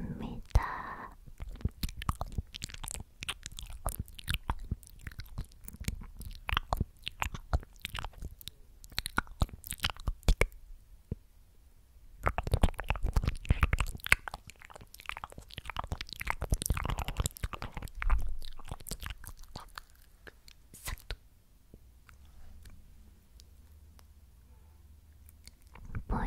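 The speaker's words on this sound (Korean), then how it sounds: "제가 이거 한번 짓눌러서 먹어버리겠습니다." Crunchy food being crushed and eaten close to the mic in an ASMR setting, with bursts of biting and chewing crunches separated by quiet pauses and soft whispering.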